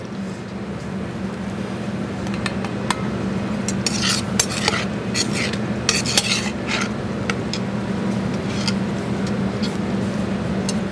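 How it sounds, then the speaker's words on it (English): Fettuccine carbonara tossed in a restaurant pan with tongs, giving scattered metallic clinks and scrapes over a low steady kitchen hum, close and moderately loud with no talking. "we're going to toss to pull it together, like so, or just nice and easy with the tongs"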